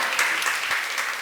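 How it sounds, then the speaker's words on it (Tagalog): Brief burst of clapping from a church congregation at a Sunday afternoon service, a moderately loud, dense patter of many hands lasting about a second. "palakpak if you want to clap"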